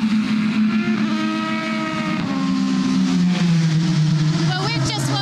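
LMP race cars at the 6 Hours of Nurburgring drone past with loud, sustained engine notes that shift in pitch as they pass, under continuous commentary.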